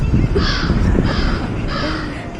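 A crow caws three times in a slow, evenly spaced series, loud and fairly close, at Al Aqah Beach.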